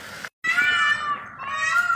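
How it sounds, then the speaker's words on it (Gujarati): A peacock calls out on a farm field: two long, loud, wailing cries close by, the second sliding downward, against a quiet background with no talking. "તમે સાંભળી શકો છો મોરનો કેટલો સુંદર અવાજ અહીંયા આવી રહ્યો છે"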